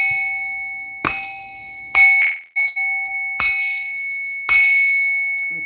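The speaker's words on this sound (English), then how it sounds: "I'm going to ring this bell." A hand bell is rung in a quiet room, with four or five bright, ringing strikes at uneven intervals. Each strike sustains and decays slowly, and no one speaks.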